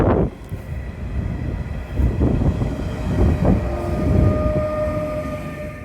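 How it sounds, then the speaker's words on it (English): A DSB class ER-IR4 train rumbles into a station, a low rolling roar with squealing brakes and a steady warning tone ringing above it. "Now my train is arriving."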